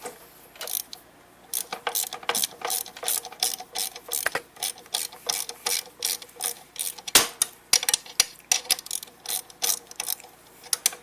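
A ratchet wrench works bolts on an Ariens snow blower during a friction disc replacement, giving rapid bursts of sharp metallic clicking in irregular runs, close and clear with short pauses between strokes.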